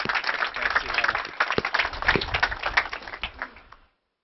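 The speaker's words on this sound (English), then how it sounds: "Let's give him a roaring virtual and round of applause." An audience claps steadily through a live student architecture awards ceremony, a dense wash of applause that holds level for several seconds before cutting off abruptly.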